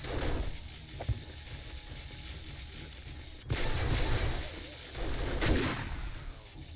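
Turret firing in the video game 7 Days to Die, with repeated booming shots and mechanical clanking, heavier bursts standing out midway and near the end over a constant background din.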